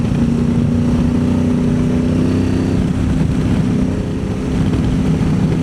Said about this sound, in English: with a strong wind like this, you get quite a lot of top-down wind coming off the screen